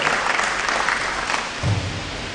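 An audience at a public lecture and official opening of a faculty law clinic claps in sustained, dense applause. It is fairly loud and even, with no speech over it.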